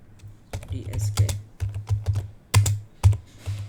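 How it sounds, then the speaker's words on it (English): Keystrokes clatter on a computer keyboard as a chkdsk command is typed on a Windows 11 PC, with bursts of quick taps separated by short pauses, close and fairly loud. "So type here chkdsk"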